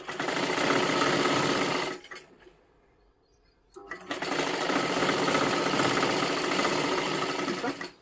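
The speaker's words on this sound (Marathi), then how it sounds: "इथे सुद्धा पूर्ण शिलाई मारत मारत घ्यायचं आहे" A sewing machine runs in two long, loud bursts while stitching a puffed sleeve, with a short near-silent pause between runs.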